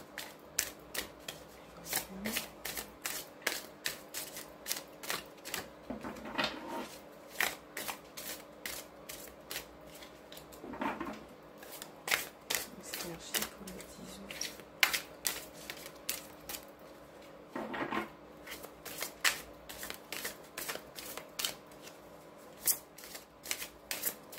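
Tarot cards shuffled by hand in a steady run of quick, crisp riffling clicks, close and fairly quiet, with a few brief low murmurs of a voice in the background.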